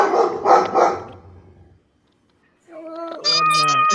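A couple of short, loud barks from dogs, close by, separated by a moment of silence and followed by higher whining yelps.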